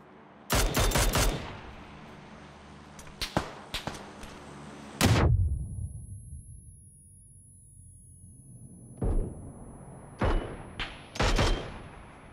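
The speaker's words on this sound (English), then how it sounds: "Oh, someone else shooting out." Sharp bursts of gunfire in PUBG on Xbox Series X, several rapid volleys with silent gaps between, loud and crisp, with no voices.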